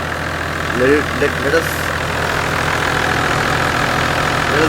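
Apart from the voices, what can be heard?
Toyota Land Cruiser FZJ80 4.5 liter diesel engine idling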